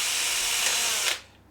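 A power drill boring through a metal Bruder ramp bracket: a loud, steady high whine that stops abruptly near the end, leaving quiet.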